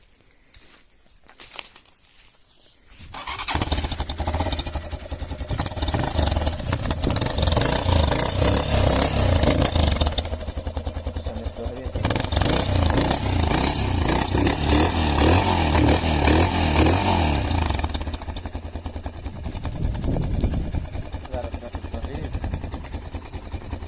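A Geon X-Road Light 200 motorcycle's exhaust roars and revs steadily for about twenty seconds after a quiet start, its throaty drone rising and falling close by.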